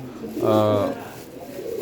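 A single low, throaty pigeon coo with a rolling, harmonic tone, close and moderately loud, fading into quiet background noise.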